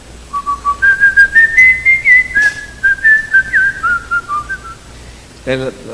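A person whistles a melody, clear bright notes rising and falling in short phrases, close and loud, with a brief voice at the very end.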